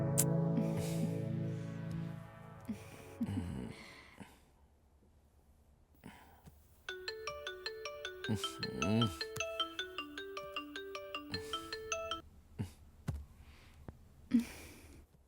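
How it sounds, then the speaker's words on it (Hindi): A melodic electronic ringtone plays a repeating pattern of bright tones, loud and close, after some earlier clattering and breathy sounds. "किसका फोन आ रहा है"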